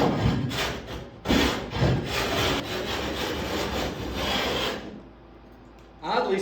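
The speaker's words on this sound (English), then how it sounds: "Kind of trimming the plywood kind of diagonally" Plywood is trimmed diagonally flush with the keelson of a wooden Somes Sound 12 1/2 boat. Close rhythmic rasping strokes of a hand tool on wood run for several seconds, then go quiet before a short final scrape.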